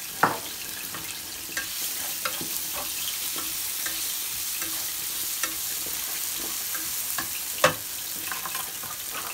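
Green plantain slices frying in hot oil in a pan, a steady bright sizzle running throughout with occasional scraping clicks and taps as the pieces are stirred, close and fairly loud, with no talk.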